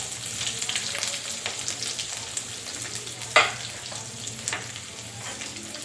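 Chopped garlic and ginger sizzle steadily in hot oil as they are fried for a jungli karela and onion sabzi, with occasional clinks and scrapes of a spoon stirring the pan, close and moderately loud.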